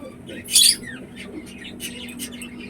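Pigeons in a pigeon loft give a sharp squawk followed by softer chirps and rustling over a low steady hum, close by.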